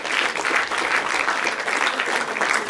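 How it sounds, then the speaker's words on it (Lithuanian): Steady, full applause from a concert audience at a Lithuanian song festival event in Baisogala, many hands clapping continuously and loudly without a break. "Jeigu galime, tai plojame."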